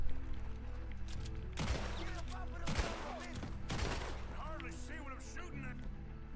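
Gunfire in Red Dead Redemption 2, several bursts of rapid shots cracking over an ongoing musical game background, mid-loud and close, with a voice in between.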